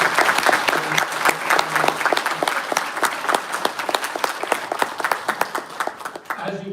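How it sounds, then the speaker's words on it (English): Audience applause at a pharmaceutical sciences convocation ceremony, a sustained round of many hands clapping in a large hall, tapering off at the end. "Please give a round of applause."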